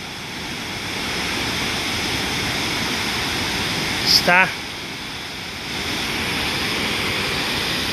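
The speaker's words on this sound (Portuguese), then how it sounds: "Olhem aqui que cascata bonita." A waterfall rushes in a steady, broad roar of falling water, heard from nearby, with a brief spoken word and a short burst of other noise partway through.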